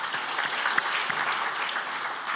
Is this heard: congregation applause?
yes